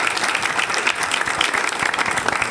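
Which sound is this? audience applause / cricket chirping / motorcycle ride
audience applause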